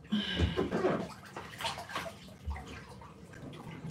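Hot water pours into a bathtub from a tap, a steady splashing rush, with occasional faint knocks and movements close by.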